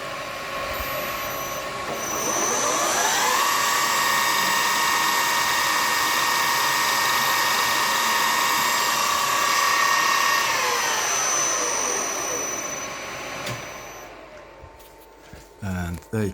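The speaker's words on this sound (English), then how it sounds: "So let's get that center drill spinning, and we'll get" A center drill spins up in a metalworking machine to mark a hole in metal for a water valve spindle support, a steady whining tone rising at start, holding, then winding down near the end.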